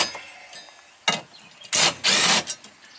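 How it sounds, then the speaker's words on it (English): Rear bolts of a vehicle seat being loosened and backed out with a ratchet during a quick-detachable seat slider installation, short clicking bursts and rasping ratchet strokes separated by pauses. "we can take the rear bolts out"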